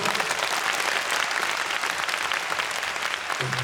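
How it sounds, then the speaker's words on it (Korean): Loud, sustained applause from a large concert audience, dense clapping filling the whole stretch without pause. "오늘 여러분 공연 즐겁게 보셨다면 박수 한번 크게주십시오"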